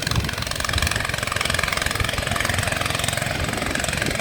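On the Perlis River, a passing boat's loud engine throbs up close in a fast, even knocking rhythm, a rough mid-pitched drone that stays steady and dominant.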